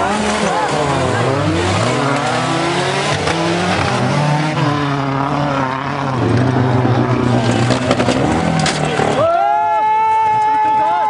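A Volkswagen Golf race car at an auto race in Bijeljina roars loudly and close, its engine note sweeping up and down through gear changes with some tire noise, before giving way to steadier tones near the end.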